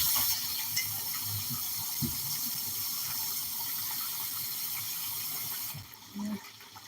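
Water runs and pours steadily into a pot for cooking beans, a close continuous hiss and splash with a mechanical clicking underneath, fading near the end.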